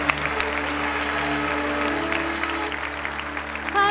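A church congregation claps steadily and continuously during a Baptist worship service, with a sustained low musical drone underneath.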